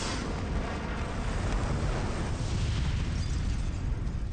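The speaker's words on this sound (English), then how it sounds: "the explosion at the other warehouse destroys Rachel's life in front of everyone" A warehouse explosion from a Batman movie, a dense, continuous rumbling roar with crackling debris that stays loud and steady throughout, with no voices.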